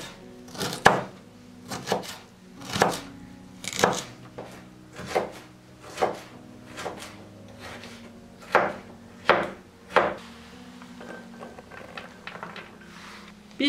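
Carrots are chopped into small cubes with a knife on a board, about a dozen crisp evenly spaced thuds at a steady rhythm, close and clear with no talk.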